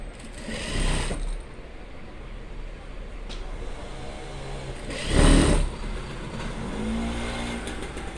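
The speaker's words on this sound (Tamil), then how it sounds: "இந்த டாட் தைக்கிறோம்ல, தைக்கும்போது இதை அப்படி மடக்கி விட்டுரும்" Sewing machine stitching fabric in two short, loud bursts of rapid mechanical whirring, separated by quieter stretches with faint background sounds.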